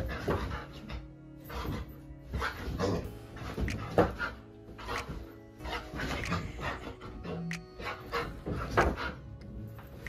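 A dog barks and whimpers in short, irregular bursts nearby, with panting and some household knocks between the calls.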